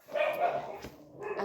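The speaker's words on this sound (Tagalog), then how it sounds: "Ang ingay ng mga aso kasi ang daming lumalabas ay dumadaan dito sa bahay namin" Neighborhood dogs bark close by outside a house as they pass along the street: a sharp run of barks, a brief pause, then another burst of barking.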